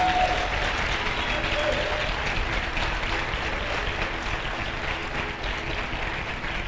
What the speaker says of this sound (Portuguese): dê um forte aplauso no nome do Senhor